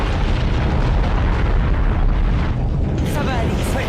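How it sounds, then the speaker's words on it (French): Massive roaring volcano eruption in an audio drama, a dense continuous boom and rumble filling the whole clip at high loudness, with crackling bursts toward the end. "Le volcan."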